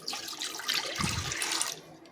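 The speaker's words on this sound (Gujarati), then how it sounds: "કુકરની અંદર થોડું પાણી વેડી અને બધું હલાવીને લઈ લઈશું" Water runs and splashes steadily into a pressure cooker for about two seconds, a close, bright gushing pour with a fuller low splash midway.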